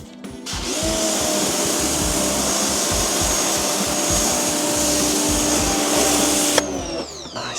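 A pressure washer blasts cleaner off a fabric convertible car roof with a loud, steady hiss and roar that runs almost without a break, then stops near the end.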